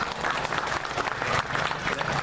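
Sustained applause from an audience at an Indonesian community gathering, dense steady clapping filling the whole stretch at even loudness with no voices over it.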